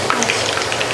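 Food sizzling and frying in a pan, a steady close crackle with no break and no talking over it.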